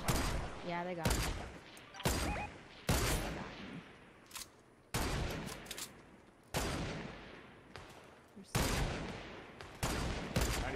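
Heavy gunfire erupts in Fortnite no-build mode, repeated loud bursts and volleys of shots hitting in rapid waves with brief gaps between them, alongside some talk.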